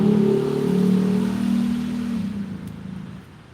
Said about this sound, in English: Some of these folks in their cars that want to make them sound like hot rods should have looked and seen what time it was